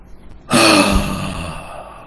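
A person forcing a loud, noisy rasping breath, one strong harsh inhalation that starts abruptly and rushes close to the microphone, then slowly fades into a softer drawn-out exhale.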